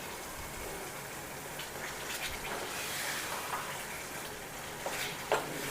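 Pepper beef roast is stirred and mixed in a pan over heat, with a steady low sizzle and soft scraping, shifting sounds as the meat is turned, and a small knock near the end.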